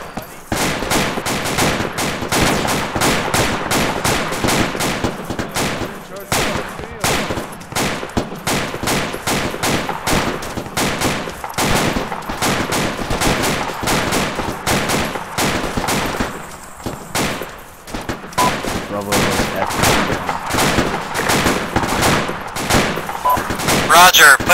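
Dense, relentless airsoft gunfire in a milsim battle, overlapping bursts and rapid single shots from several guns firing close and loud for the whole stretch, with shouted voices now and then.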